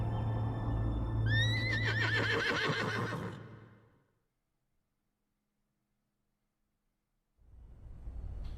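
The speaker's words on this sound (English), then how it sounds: "The horse is still there." A horse in a video game gives one loud, wavering neigh near the start, over a low steady hum, then the sound cuts to silence before noise returns at the end.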